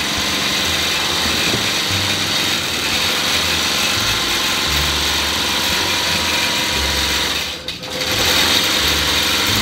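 A longarm quilting machine runs in a home sewing room, giving a loud, steady mechanical whir with a rapid stitching rattle that carries on without pause and dips briefly near the end.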